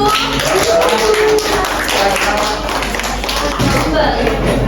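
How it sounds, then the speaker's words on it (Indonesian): Classroom clapping for classmates who have just presented in an elementary science teaching simulation, a few seconds of uneven hand claps mixed with murmured voices and room noise. "Tepuk tangan dong buat teman-teman yang sudah maju."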